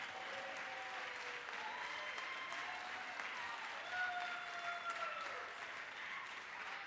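Applause fills the Georgia House chamber during a legislative session, a steady wash of clapping from many hands at moderate distance, swelling briefly near the middle before easing off.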